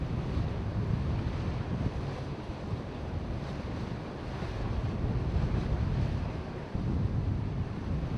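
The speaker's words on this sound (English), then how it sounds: "even with a brisk wind blowing." Brisk wind gusts across the Rhine River in the morning, a steady broad rush with buffeting against the microphone and a low wash of water, continuous and fairly quiet, with no voices.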